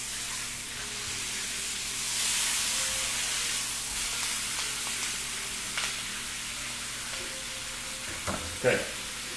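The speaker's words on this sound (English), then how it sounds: "So I'm sealing it off nicely all over with a bit of color" Steak searing in a hot pan at a live cooking demonstration, a steady loud sizzle and hiss that swells and eases, with a few brief utensil knocks near the end.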